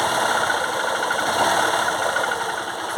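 A carbureted 2008 Honda Titan 150 motorcycle engine runs steadily at close range with a continuous mechanical rattle, a suspected loose cam chain knocking through the engine note, with no talk over it.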